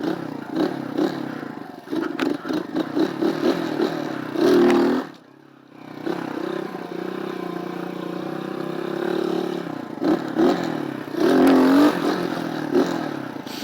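Motorcycle accelerating repeatedly during wheelie practice: an engine revving up and easing off in several surges, with rattling clatter and a brief quiet gap in the middle, moderately loud and close.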